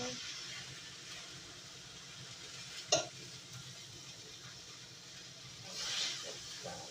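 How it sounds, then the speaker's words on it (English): Turkey meat sizzles steadily in a pan, a soft continuous hiss running throughout with one sharp clack partway through and a brief brighter spit of frying near the end. "The meat over here is cooking."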